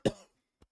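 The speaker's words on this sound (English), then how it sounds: "it's this tickle in the back of my throat, man, that cough" A single sharp cough, set off by a tickle in the throat, sounds close and abrupt, followed by a faint short catch of breath.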